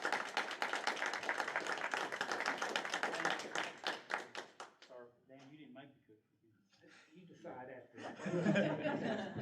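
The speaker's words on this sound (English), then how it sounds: "they deserve another round of applause for what they did" Audience at a municipal election candidates forum applauds the candidates, a burst of clapping that thins out and gives way to scattered claps, chuckles and a voice, then a brief renewed swell of noise.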